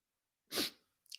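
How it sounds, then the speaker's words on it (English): A single sharp human sneeze bursts out after a brief silence, followed by a short breathy sniff or exhale, close and loud with no other voices. "I'm about to sneeze"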